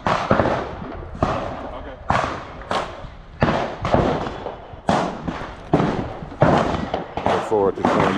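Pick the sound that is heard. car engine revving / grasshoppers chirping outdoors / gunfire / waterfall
gunfire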